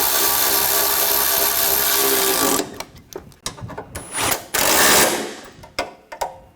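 A power tool drives home bolts on a 2013-2019 Ford Escape 2.0L lower radiator support, a loud continuous whir that cuts off, followed by short bursts and clanks of tool and metal.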